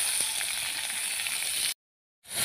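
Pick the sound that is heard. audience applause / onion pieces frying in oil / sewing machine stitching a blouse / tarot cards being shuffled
onion pieces frying in oil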